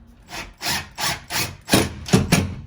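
An impact driver sinks a sheetrock screw into a drywall wall while a TV wall mount is installed, giving six loud, rasping hammering bursts in steady succession, close by, with no talking.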